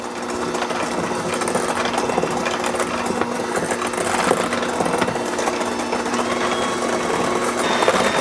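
Electric mixer beating eggs and sugar for oatmeal cookie dough, a loud continuous motor whir with a steady mechanical buzz running throughout, close and uninterrupted.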